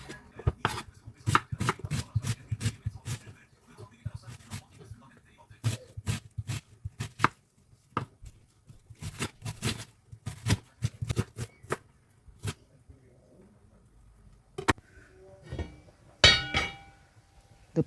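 Uziza seeds and crayfish being pounded, with repeated sharp knocks in uneven bursts and short pauses, close and fairly loud with no talking.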